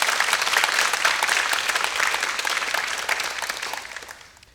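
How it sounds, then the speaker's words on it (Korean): An audience applauding after a piano performance, a dense, loud wash of clapping hands that carries on steadily, then thins and fades away at the end. "큰 박수 보내주시기 바랍니다."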